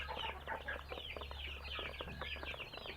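Newborn chicks and adult chickens cluck and peep steadily at close range, a dense, continuous stream of chirps over a constant low hum.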